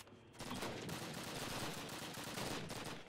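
Bursts of rapid automatic gunfire from the Call of Duty video game crackle densely and loudly, almost without pause, after a brief quiet start.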